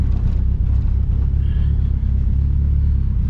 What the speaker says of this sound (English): It sounds like the motor's about to fall out of it.